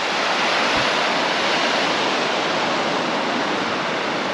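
Rushing mountain stream full of snowmelt and mud near the beach at Ordzhonikidze in Crimea, a steady, dense broadband roar of flowing water heard close up with no voices.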